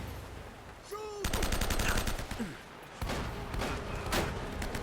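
Gunfire in the video game Uncharted: Drake's Fortune, with bursts of rapid automatic shots and scattered single cracks in a continuous loud exchange, with a voice briefly audible early on.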